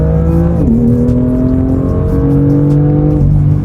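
A 2018 BMW M2 accelerates hard on a test drive, its engine note loud and close, climbing in pitch, dropping briefly at a gear change, then rising again.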